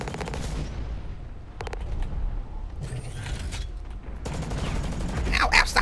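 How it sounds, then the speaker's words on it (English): Mech combat gunfire in the video game Hawken: repeated rapid bursts of shooting crackle in and out over a constant low background rumble, with several clusters of shots across the stretch. "stop shooting at me from over there"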